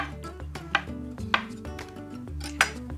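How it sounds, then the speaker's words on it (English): Knife slicing through banana on a board, a few distinct chopping taps standing out over a steady low musical background, with no talking. "And some banana, extra banana. Just cut that into slices."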